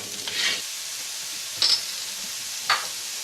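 Celery stir-fried in a pan for pancit bihon gives a soft, faint sizzle with three short bursts of hiss and scraping as it is tossed, and no voices.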